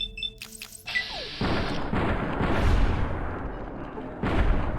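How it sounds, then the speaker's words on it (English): A grenade explodes in Fallout: New Vegas, a loud booming blast followed by a rumbling tail and a second heavy burst near the end, with sharp clatter at the start. "Is that a grenade?"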